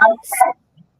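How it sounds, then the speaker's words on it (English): A dog barks once or twice in the background, short and fairly close, cutting across a voice on a gospel music and talk radio call. "that was my dog in the background"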